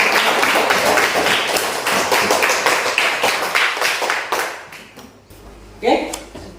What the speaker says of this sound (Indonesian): Ya, berikan dulu aplaus untuk semuanya ya.